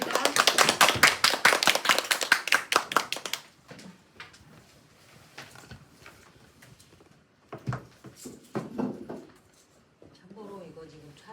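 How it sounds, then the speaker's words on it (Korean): A seminar audience at a construction-industry ESG strategy event claps in a dense, loud burst for about three seconds, then the applause thins out into scattered claps and quieter room noise with a few voices. "큰 박수 부탁드립니다."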